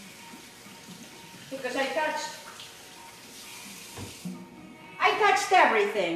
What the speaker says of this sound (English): Let me just go rinse my hands real quick.